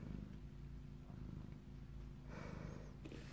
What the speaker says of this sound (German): Feines Kätzchen.